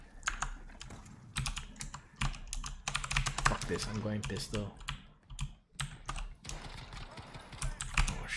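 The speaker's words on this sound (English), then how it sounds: "the only thing you guys can hear is my keyboard" Rapid computer keyboard typing and clicking during a gaming session, close and continuous with bursts of keystrokes, while a person talks excitedly over it.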